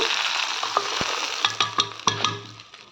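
A hot tempering hits cooked moong dal with tomato, making a bright sizzle that fades as a spoon stirs and clinks against the pan several times, close and without speech.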